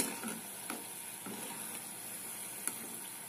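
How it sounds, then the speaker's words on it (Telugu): Spicy snacks deep-frying in hot oil until golden, a steady soft sizzle and hiss with a few faint clinks, close and constant with no voices. "ఇలా గోల్డ్ కలర్ వచ్చే వరకు వీటిని ఫ్రై చేసుకోవాలండి."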